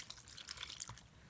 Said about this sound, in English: pour the soy sauce over the chicken